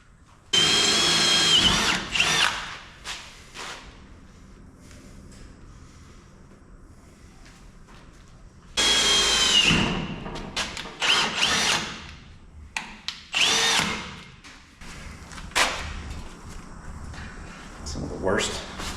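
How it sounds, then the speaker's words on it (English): A power drill whines in loud, sustained bursts with pauses between them, drilling overhead, and people talk in the gaps. "Some of the worst kind of drilling right there is overhead."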